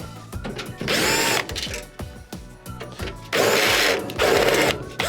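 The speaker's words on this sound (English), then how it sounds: "There are 5 screws holding in the back panel. What you will need to do is remove these first." Cordless power drill backing screws out of the rear metal panel of a Whirlpool washing machine, several loud whirring bursts of a few seconds each separated by clicks and handling noise, close up with no talking.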